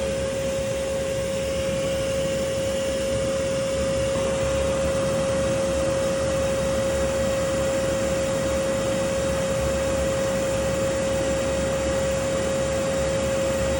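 A vacuum cleaner draws yellow jackets out of a hole in a condo wall in Auburn, giving a steady, close, unbroken suction roar with a constant high whine that runs alone throughout.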